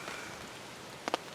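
Steady rain patters as a soft, constant hiss on a tent, with a couple of slightly louder drops landing nearby.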